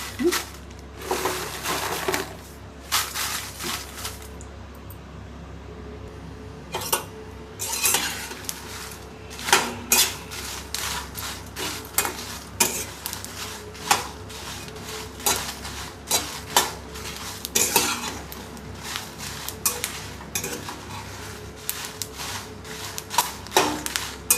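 Dried red chillies dry-roasted without oil in a pan, with repeated metallic scraping and stirring clatter from a spatula, close and irregular, faint sizzle underneath, no talking.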